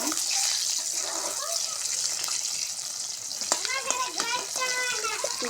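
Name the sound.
eggs frying in oil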